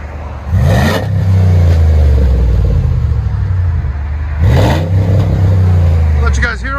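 A 2008 Jeep Grand Cherokee with a 5.7L HEMI V8 and Flowmaster 50 Series exhaust revs twice, each throttle blip rising into a deep, loud rumble before settling back to a steady idle, recorded close outside.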